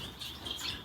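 Small caged birds, including parrot finches, at a bird expo chirp and twitter in a continuous bright, busy chorus, fairly close, with no voices over it.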